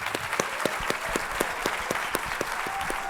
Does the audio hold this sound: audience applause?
yes